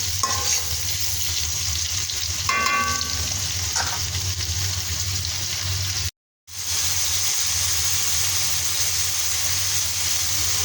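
Onion and garlic sizzling in a pan with a pinch of salt, a steady close hiss broken by a few scraping stirs, a brief silent gap in the middle, then the frying resumes.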